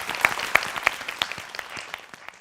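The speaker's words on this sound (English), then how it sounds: "please give a round of applause for both teams and the judges" An audience at a debate competition applauds the teams and judges, a dense burst of clapping that is loud at first and then thins and fades over a couple of seconds.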